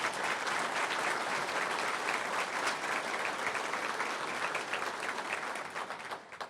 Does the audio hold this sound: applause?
yes